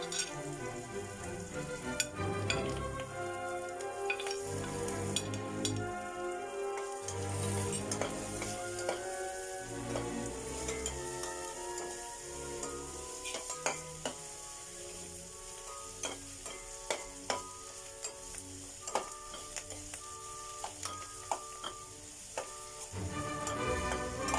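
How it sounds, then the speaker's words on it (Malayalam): Ginger and garlic sizzle in hot oil in a pan while being stirred, a steady frying hiss broken by repeated clicks and scrapes of the spoon against the pan, close and with no talking. "ഇഞ്ചിയും വെളുത്തുള്ളിയുടെയും പച്ചമണം മാറുന്നത് വരെ നന്നായിട്ട് ഇളക്കി കൊടുക്കുക"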